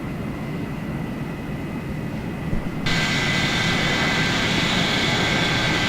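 A Lockheed F-104 Starfighter's jet engine roars steadily in a flight game, a loud broadband rush that jumps abruptly louder and brighter midway, as if throttled up, and then holds at full power.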